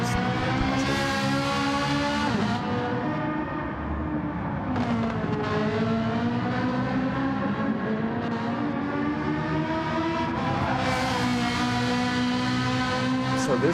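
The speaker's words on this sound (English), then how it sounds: "Boy howdy, don't those cars just sound fantastic." Race cars, including a Ferrari, lap a track in a Vegas Cup Series round, their engines droning and rising and falling in pitch as they accelerate and brake, loud and continuous throughout.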